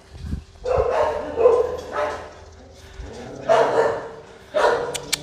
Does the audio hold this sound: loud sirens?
no